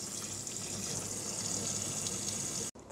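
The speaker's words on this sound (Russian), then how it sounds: "Шапочки сморчковые мы тоже промоем холодной проточной водой." Cold tap water runs steadily into a sink over morel mushrooms being rinsed, with a constant hissing splash, briefly cutting out near the end, with no voices.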